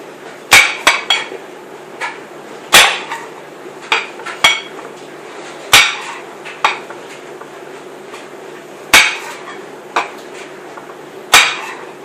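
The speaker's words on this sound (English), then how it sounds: "I'm going to chop them a little bit smaller while the aloe soak." Knife chopping apples into smaller pieces for aloe vera juice, a series of sharp, irregular knocks on a board with kitchen clatter in between, close and moderately loud with no talking.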